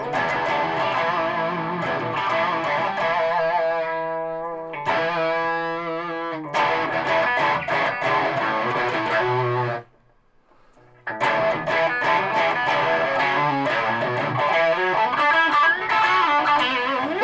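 Electric guitar through a Fulltone Plimsoul distortion pedal, playing loud driven chords and sustained notes with a short clean-sounding phrase, a brief near-silent gap, then more dense distorted strumming.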